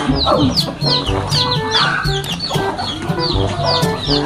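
Repeated clucking from a rooster and hens, loud and close, with short calls every half second or so over a low farmyard hum.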